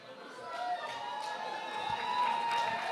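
Crowd cheering at a beetleweight combat robot tournament arena, a moderate, distant roar that swells slightly while voices talk over it.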